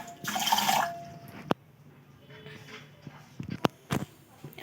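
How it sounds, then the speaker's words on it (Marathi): Water poured from a cup onto half a cup of sugar in a pan to make syrup, a short splashing rush followed by quiet clinks and taps of utensils. "1 कप पाणी टाकू आपण."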